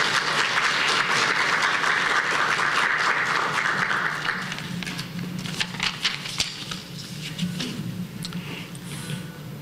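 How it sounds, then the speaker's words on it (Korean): Audience applause fills a university inauguration worship service for a new board chair and president, a dense steady clapping that gradually thins and softens toward the end. "박수 부탁드리겠습니다."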